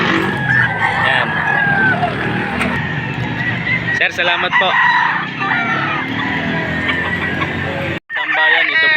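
At a rooster market in Padre Garcia, Batangas, chickens cluck and a rooster crows close by, with steady crowd chatter and people talking over the birds throughout.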